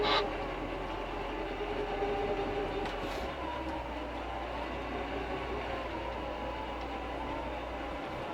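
An excavator engine holds a steady, partly opened throttle while land balancing a new subdivision, a continuous low drone with a rumbling mechanical texture that stays even and loud throughout, with no voices.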